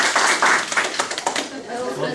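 Applause from a classroom audience during a trial mathematical logic lecture, a burst of hand claps running throughout under overlapping chatter and voices.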